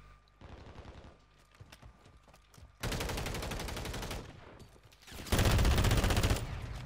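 Rapid automatic hip-fire gunfire from Call of Duty Warzone, loud sustained bursts with brief pauses between them, following quieter game noise at the start.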